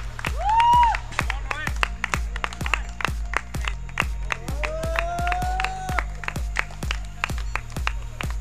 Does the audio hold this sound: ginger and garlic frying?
no